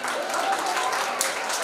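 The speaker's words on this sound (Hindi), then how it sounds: "एक बार जोरदार तालियां त्रिलोक सर के लिए" Steady audience applause for a judge at a talent-hunt show in Bhopal, with dense clapping filling the whole short stretch at an even level.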